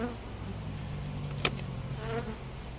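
A steady drone of honeybees in a hive fills the clip, a dense buzzing hum with no voices, close and continuous.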